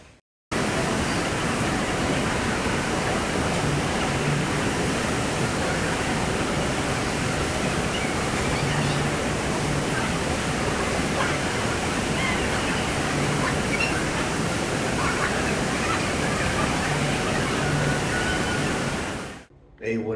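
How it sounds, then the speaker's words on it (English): The indoor waterfall at Jewel, Changi Airport in Singapore roars as a steady, dense wash of falling water, loud and continuous for the whole stretch before cutting off abruptly. "Yes, that is a waterfall inside of a building."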